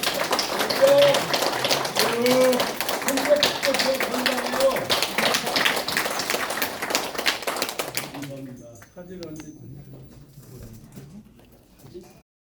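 A church congregation claps together in a dense, sustained round of applause with voices mixed in, then the clapping fades out, leaving quieter talk.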